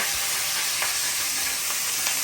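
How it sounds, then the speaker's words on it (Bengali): Loud, dense sizzle of fish frying in hot oil, a constant hiss with faint pops throughout. "মাছটা আগে ভাজা নিতেছি ভালোভাবে, নরম মাছ তো একটু কড়া করে ভাজতে হইব"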